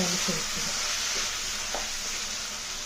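Potato tomato curry fries in a pan with a constant, dense sizzle, while a few soft scrapes of stirring sound close by.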